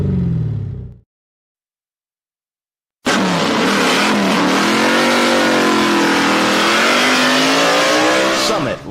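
A drag-racing gasser's loud open exhaust roars and revs hard after a brief silence, rising and falling pitch close by at a dragway event.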